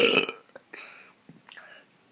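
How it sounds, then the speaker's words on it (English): A close, loud human burp opens with a rough, raspy burst, then trails off into a few softer throaty gurgles and small noises, with no words spoken. "I'm gonna burp."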